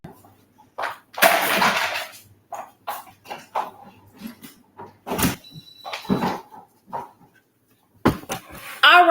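A dog on a patio gives a string of barks and whimpers at moderate distance, irregular and separated by pauses, with people talking over parts of it.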